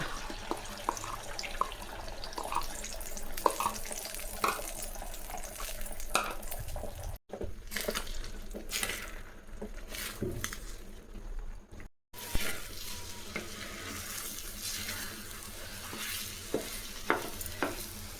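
Oil heats and sizzles on a tawa while egg semiya is made, a soft, uneven frying hiss broken by clatters and scraping of utensils, with two brief dropouts. No voices are heard.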